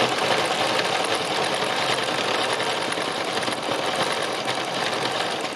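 Sewing machine stitching free machine embroidery, a fast steady mechanical chatter of the needle running continuously at close range without pause.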